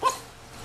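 A male boxer puppy gives a single short, faint bark right at the start, then quiet follows.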